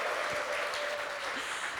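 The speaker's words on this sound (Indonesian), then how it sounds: "Kurang semangat, sekali lagi tepuk tangannya." A live stage talk audience claps again on cue, a sustained burst of even, dense applause from a crowd with a faint tonal hum underneath.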